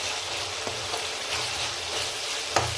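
Tomato fries in oil in a pan while Rayalaseema uggani is being cooked, giving a steady, close sizzle with a few soft stirring clicks.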